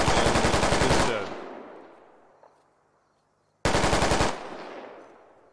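Two loud bursts of rapid automatic gunfire in the military shooter game Squad, the first fading into a long reverberant echo across open fields before a second burst cuts in and also trails away.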